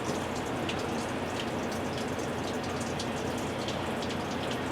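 Steady pattering and trickling of water draining through a floor drain plate in a RZR side-by-side, continuous and close, with no voice.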